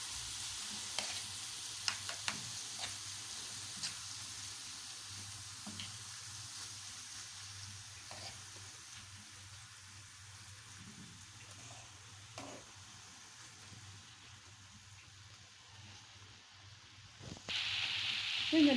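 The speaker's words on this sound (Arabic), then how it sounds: "صافي غندوزو نشحروها ونرجع معكم." Spiced ground meat filling sautéing in a pan, with a steady close sizzle and frying hiss throughout, scattered with soft stirring scrapes.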